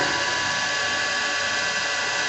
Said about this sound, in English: you're going to drill forward into the corner of that center drill bit